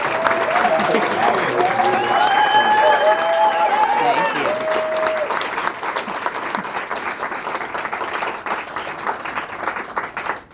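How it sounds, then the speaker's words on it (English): Audience applause for candidates at a Ward 10 candidate forum, a steady round of clapping mixed with voices and speech, fading slightly toward the end. "If we can just give the candidates just a small clap."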